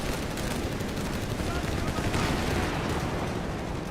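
MG42 machine guns and other weapons in a Company of Heroes 3 battle over fuel, dense continuous rattling gunfire with blasts mixed in, loud and unbroken throughout, with a commentator talking over it.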